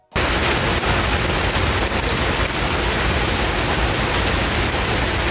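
Steady rain pours outdoors on a calm day, a dense, even wash of noise that holds loud and unbroken for the whole stretch with no voices over it.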